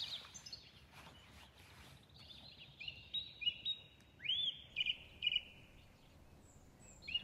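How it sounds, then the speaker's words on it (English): Faint bird calls and chirps come in short bursts over a quiet outdoor background by Lake Brienz at Iseltwald, Switzerland, sounding somewhat distant. "Rasta is listening to the birds."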